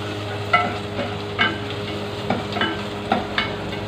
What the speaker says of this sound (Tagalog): pagigisa ng onions kasi yung garlic ay nauunang masunod.